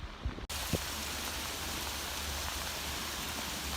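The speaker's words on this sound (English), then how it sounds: "Give me all the rain you give me." Steady rain falls on a filling pond, a dense even hiss close by after a brief quieter moment with a sharp knock near the start, no talk.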